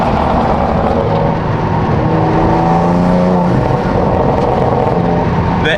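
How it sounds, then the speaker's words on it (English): A BMW M4 Competition fitted with a catless downpipe revs loudly nearby, its raspy exhaust rising and falling through several throttle blips, with a deep rumble underneath. "Who said catless downpipe BMWs sound awful?"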